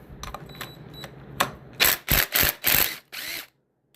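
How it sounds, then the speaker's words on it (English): A hand ratchet clicks as it backs the detent spring bolt out of a 4L60E transmission valve body, with a few faint clicks followed by four or five louder, rapid close ratcheting bursts. "So we're actually going to pull the detent spring bolt off now."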